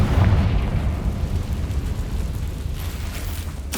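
A Confringo fire spell from Hogwarts Legacy bursts with a deep rumbling boom that rolls on as a continuous roar and fades over a few seconds.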